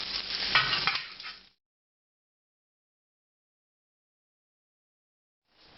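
Ribeye steak sizzling in butter in a hot pan, a loud, close crackle and hiss for about a second and a half before cutting to silence, with a brief return right at the end.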